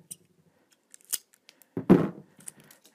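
Scissors snip through the outer tube of an underground ethernet cable, a few short crisp cuts and a louder crunching cut, close and with no talk.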